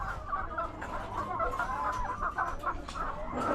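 Several chickens cluck and murmur continuously nearby, a busy overlapping chatter of soft calls with no talking.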